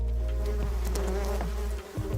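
Bees buzz steadily in a close, droning hum, with individual insects' pitches rising and falling as they pass.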